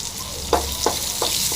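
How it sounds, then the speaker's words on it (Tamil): Ginger, garlic and green chillies fry in a pan with a steady close sizzle, punctuated by three or four soft stirring scrapes at regular intervals. "அடுத்தது இஞ்சி பூண்டு இங்கே பச்சை மிளகா போட்டு நல்லா ஃப்ரை பண்ணிக்கலாம்."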